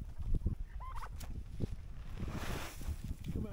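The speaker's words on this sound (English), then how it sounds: "here comes Gobbles to come out and play. She's the only one brave enough to stand the cold" A turkey gobbles beside a chicken coop in cold weather, several short warbling calls up close over steady wind noise, with no talk.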